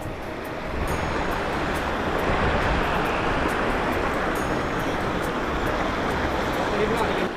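Steady broadband rushing of a mountain stream with low winter flow, continuous and fairly close, like shallow water running over rocks, with no voices, near Mana village above Badrinath.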